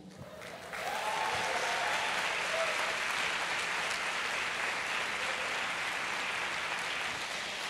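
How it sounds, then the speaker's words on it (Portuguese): A church congregation bursts into sustained, even applause that holds steady and fills the room from the first second to the end. "Você teve vontade de aplaudir, né?"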